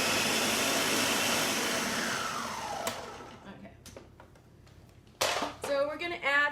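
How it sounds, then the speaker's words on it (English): A blender whirs loudly and steadily while making sofrito, then winds down and stops, followed by a few scattered knocks and short bursts of restarting. "we are going to start this a little bit just to bring things down in the blender."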